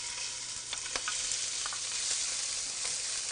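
Chopped onion frying in a little olive oil in a pan, a steady, even sizzle with faint crackles and a few spoon stirs, close and moderately loud.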